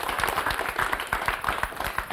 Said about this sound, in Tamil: ஒரு நல்ல ஒரு அரங்கம் நிறைந்த கைத்தட்டல்